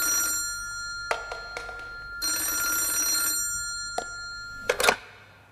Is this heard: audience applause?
no